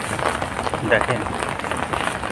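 Heavy morning rain pours down in Kuwait, a dense, steady hiss of drops striking surfaces close by, with someone briefly speaking over the downpour.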